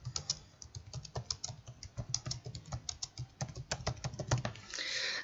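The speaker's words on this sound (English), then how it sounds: "So let's start typing." Fingers type on a computer keyboard in quick, uneven runs of close, crisp key clicks with brief pauses, and no voices.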